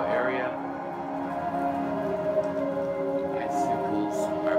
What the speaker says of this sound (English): We are finally seeing rain. Rain has hit the Portland metro area.